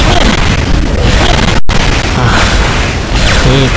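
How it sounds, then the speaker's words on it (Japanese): A long-range artillery blast from the Hannibal monster in the video game God Eater 2, a loud booming burst with a sharp cut partway through, followed by rumbling impact noise. "長距離からの砲撃来ます。"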